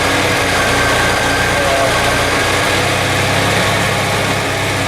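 A Chevy S10 engine idles after a head gasket replacement, with a slightly rough running condition. The rumble is loud, close and continuous, with a low pulsing throb under a broad steady noise.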